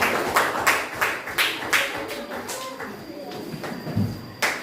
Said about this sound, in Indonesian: beri tepuk tangan untuk kelompoknya Kiflan.